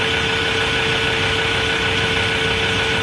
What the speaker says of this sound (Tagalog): So gana na yung compressor.